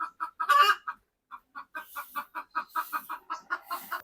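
Brooding hens sitting on eggs give a steady string of short, soft clucks, close by, with one louder squawk near the start and a brief pause before the rhythmic clucking resumes.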